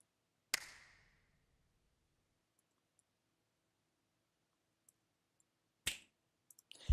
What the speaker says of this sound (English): let's say this snap we want to make a little bit louder